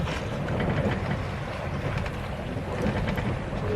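A stable, heavily ballasted sailboat moves through water on an afternoon sail, with a steady wash of water and gusting wind buffeting the microphone, and no one speaking.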